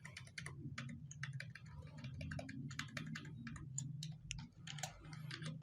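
Rapid, uneven keystrokes on a computer keyboard as a query is typed, close and clear over a low steady hum, with no talking.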